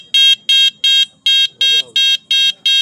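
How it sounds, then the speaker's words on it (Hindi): A second vehicle horn on a street in Nagpur gives eight quick, loud, evenly spaced beeping honks in a steady rhythm, close by, with a faint voice murmuring briefly midway. "दूसरा हॉर्न"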